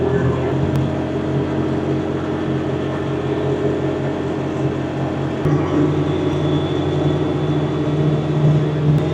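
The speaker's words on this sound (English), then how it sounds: "I'm running along right now at 45, and it's louder than like a car" A BigHorn Denali 1000 APEX side-by-side UTV cruises at 45 with a steady, loud droning engine and road rumble, an even sound that continues throughout with no clear talk.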